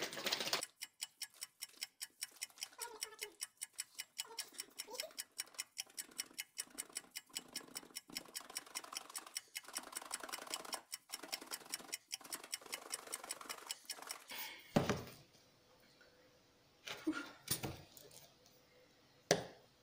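Rapid, regular tapping and scraping of a utensil against a bowl as gluten-free vegan pie dough is mixed, a fast steady rhythm for most of the time, then a few louder knocks and a pause near the end.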